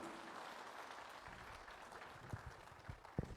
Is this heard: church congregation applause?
yes